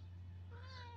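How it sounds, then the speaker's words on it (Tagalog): A single cat meow rising near the end over a steady low electrical hum, faint and fairly close, on a small vegetable farm. "Pusa."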